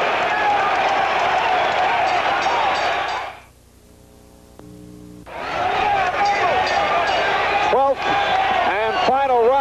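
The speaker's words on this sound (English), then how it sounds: "the crowd here at Roberto Clemente Coliseum on its feet" Boxing fight crowd at Roberto Clemente Coliseum, a loud sustained roar of thousands of fans that drops away briefly in the middle and then surges back, with shouting and whistles over it.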